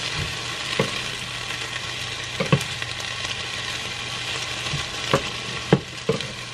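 Onion frying in a pan until golden on the bottom, a steady close sizzle broken by occasional clinks and stirring knocks.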